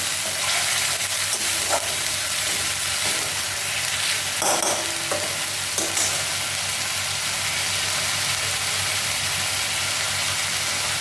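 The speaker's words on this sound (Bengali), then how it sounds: "এখন আমি একটুখানি ওই ধোয়ার জলটা দিলাম, আরও কষাবো।" Egg curry masala fries with a little added water in a continuous loud sizzle. Spatula scrapes and stirs break through now and then.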